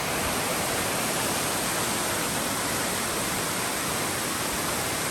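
Phoenix Falls, a waterfall near Creede, Colorado, running high with heavy flow, roars as a steady, dense rush of water close by, unbroken and without voices for the whole stretch.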